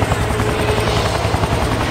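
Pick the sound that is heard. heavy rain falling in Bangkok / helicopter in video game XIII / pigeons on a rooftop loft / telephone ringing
helicopter in video game XIII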